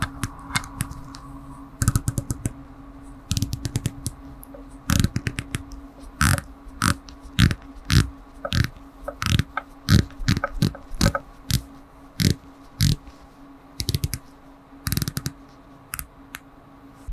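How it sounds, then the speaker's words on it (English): Oris Aquis Stormtrooper limited edition dive watch's unidirectional ceramic bezel being turned, giving a long series of crisp, close, evenly spaced ratcheting clicks with no talking. "It turns unidirectionally, and let's go ahead and give it a click test."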